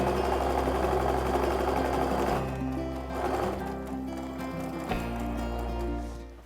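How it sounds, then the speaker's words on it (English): A sewing machine stitches rows of 60-degree diamond quilt pieces together, running steadily with a fast, even mechanical hum and rattle before slowing, pausing briefly, and starting again. "I'm gonna go ahead and sew this together"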